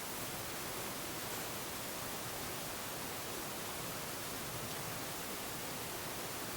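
A Nordica Super Max Verde wood-burning stove roars as its fire catches and draws, a steady, broadband rushing hum that stays constant and fairly quiet throughout with no talking.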